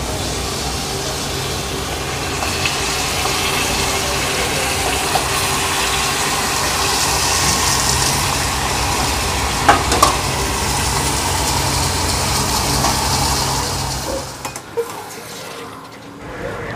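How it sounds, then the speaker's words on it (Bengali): Chicken marinated with yogurt, ginger and garlic sautéed in biryani spices, giving a strong continuous sizzle with occasional stirring knocks before the frying quiets near the end. "মাংসটাকে এবার মশলার সাথে ভালো করে কষিয়ে নেওয়া হচ্ছে।"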